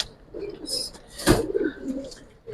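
Young Giribaz pigeons coo close by, a few low throaty rolls with a sharp knock midway and faint high chirps in the background.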